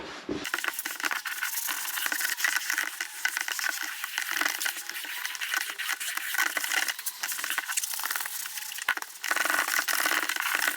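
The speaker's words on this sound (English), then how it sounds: "Then I have a clean microfiber cloth here, which I could wipe off the excess foam." A clean microfiber cloth wipes excess cleaning foam from the leather seat of a Porsche 911 996 Turbo, giving close, quiet rubbing and brushing strokes with small scuffs and clicks in an irregular rhythm, with no talking.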